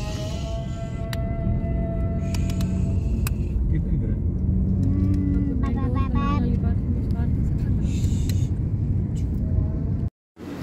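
A car creeps and circles through a crowded market while hunting for parking, its steady low engine rumble running under continuous nearby talk until a brief cutout near the end.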